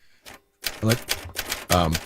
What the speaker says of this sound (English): I think that's sort of they still use typewriters over there.